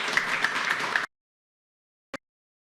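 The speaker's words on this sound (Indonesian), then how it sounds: "Kita tepuk tangan dulu untuk para narasumber." A studio audience at a talk show applauds its guests in a dense burst of clapping that lasts about a second and cuts off abruptly, followed after a pause by a single brief knock.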